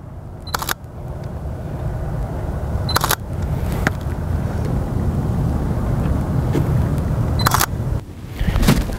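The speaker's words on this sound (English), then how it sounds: "I'm going to wear this close so you guys can actually hear the lens searching." A camera lens on a Sony mirrorless body with a lens adapter whirs and clicks in short bursts as the autofocus hunts, heard close over a constant low background rumble.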